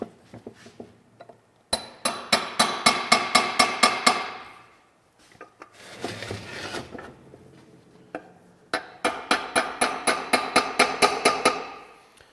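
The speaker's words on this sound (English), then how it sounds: "Just a little hammer and walk it off these dowel pins." A small hammer taps rapidly at a Smoked NV4500 transmission's tail housing, walking it off its dowel pins: two bursts of crisp, ringing metallic strikes, close and loud, with a scraping shuffle between them.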